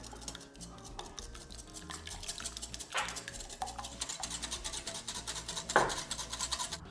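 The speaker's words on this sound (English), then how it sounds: "And now our warm milk, start to slowly add that as you whisk." Quiet, steady whisking of warm milk into custard in a casserole dish, soft scraping and clinking of the whisk against the dish with a couple of sharper knocks.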